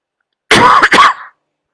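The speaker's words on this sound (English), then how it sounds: "Let me cough." A single close, loud cough, broken into two quick bursts that fade out, heard on its own.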